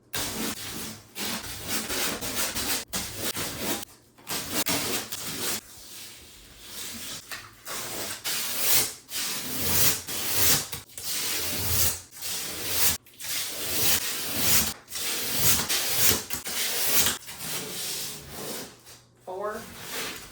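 Strips of painter's tape peeled off a freshly painted striped wall in an office makeover, giving repeated close ripping and rubbing scrapes in irregular bursts with brief pauses between pulls.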